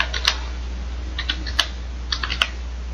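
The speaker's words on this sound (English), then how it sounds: "just type in the name of the file that you want to get rid of" Keystrokes on a computer keyboard while a Linux rm command is entered, a few sparse, crisp clicks in small bursts over a low steady hum.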